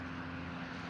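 Steady low droning engine hum of a helicopter flying overhead at night, a continuous rumble with a sustained tone, fairly distant and unbroken.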